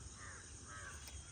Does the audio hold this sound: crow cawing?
yes